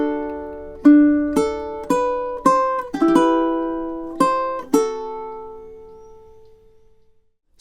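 Fingerstyle ukulele plays a slow, relaxing phrase of two measures: about nine plucked notes and chords ring out clearly one after another, the last left to fade into quiet.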